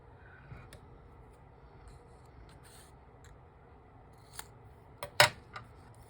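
Scissors snip a paper strip in half for a bellyband craft, with soft rustling and a few faint taps, then a sharp, close cutting burst near the end.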